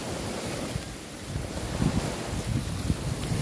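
Strong sea waves surging and washing on a rural provincial shore, a continuous rough roar with wind buffeting the microphone and a few heavier breaking surges.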